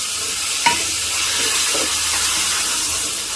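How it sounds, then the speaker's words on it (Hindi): Mutton browning in hot oil in a pot for Afghani pulao, a steady loud sizzle and hiss with a few scraping stirs of a spoon, close up and with no voices. "हमने मटन को खूब भूनना है, अच्छा ब्राउन करना है।"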